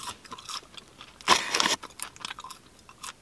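Crunchy chips (fries) from a London chicken shop are bitten and chewed up close, a sharp loud crunch followed by a series of softer crackling bites in uneven rhythm.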